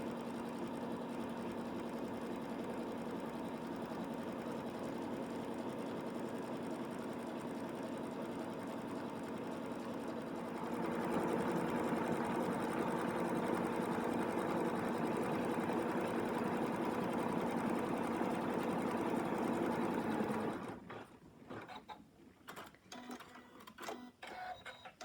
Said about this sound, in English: So now it's going to stitch the legs one by one.